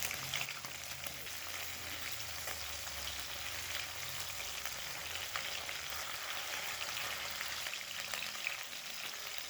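Bata fish frying in mustard oil over a high gas flame, a steady close hiss and crackle of sizzling oil running unbroken throughout.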